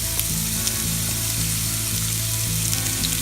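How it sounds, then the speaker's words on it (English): Onions sizzle and fry in hot oil in a frying pan, a steady close crackling hiss that runs without break, with no talking over it. "So we will be adding our onions, and we'll start frying them."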